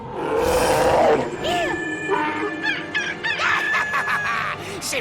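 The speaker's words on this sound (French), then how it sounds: "Un ours!" A cartoon bear lets out a loud, rough roar amid other animal-like cries and sound effects, with brief voices in the background.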